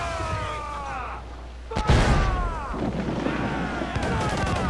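Ship cannons fire in an Assassin's Creed 4 naval battle, with a loud boom near the two-second mark. It rings out over a dense game mix of creaking, shouting crew voices and whistling effects.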